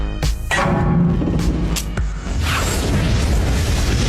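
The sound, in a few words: car explosion in a movie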